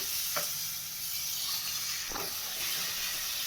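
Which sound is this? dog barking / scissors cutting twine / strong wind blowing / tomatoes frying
tomatoes frying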